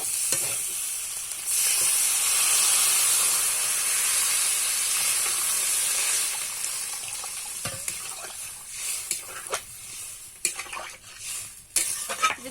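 Water poured into hot potato curry for Kashmiri aloo dum bursts into a loud, steady sizzle and steam hiss, easing over several seconds into softer bubbling with scattered stirring clatters near the end.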